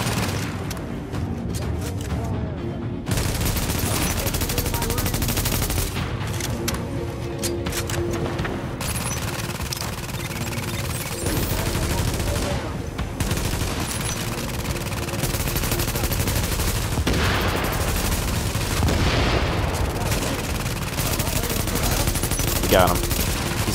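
Heavy, sustained gunfire from a video game dungeon fight in Hudson Yard, dense overlapping shots and bursts rattling on nearly nonstop, loud and close, with occasional voices mixed in.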